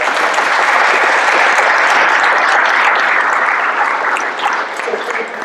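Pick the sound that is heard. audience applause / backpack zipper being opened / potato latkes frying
audience applause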